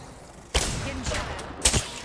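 Gunfire in Apex Legends comes as a sharp loud burst of shots, then a short pause and another quick volley near the end, all close and punchy.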